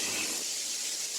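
Steady steam hiss from a pressure cooker whistling as potatoes and tomatoes cook in a home kitchen, a continuous airy rush throughout with no voices.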